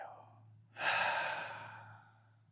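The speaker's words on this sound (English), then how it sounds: "I invite everyone to take a nice deep inhale. Exhale." A slow, deep breath, heard as a quiet intake followed by a long, breathy exhale close to the microphone over a faint low hum.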